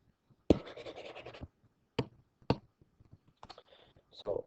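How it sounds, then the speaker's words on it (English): Erasing writing on a board: a few brisk scratchy rubbing strokes, one longer sweep followed by short separate swipes, close and fairly quiet, with a voice speaking briefly near the end. "Well, I'm going to erase that now."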